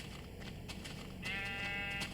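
A light gray sheep in Minecraft bleats once at moderate volume, a short wavering game-animal cry that rises out of faint background ambience near the end.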